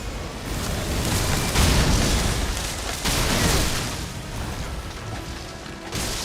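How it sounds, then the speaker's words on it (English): Triple explosion attack in the Elden Ring: Shadow of the Erdtree video game, a series of heavy booming blasts with rumbling bursts that swell and fade across several seconds, loud and dense with no talk. "this is the triple explosion"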